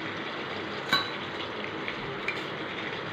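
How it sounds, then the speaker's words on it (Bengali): Oil heating in a pan for cooking malai bhindi, giving a steady close sizzle throughout with a couple of faint metallic clinks. "তেল গরম হচ্ছে।"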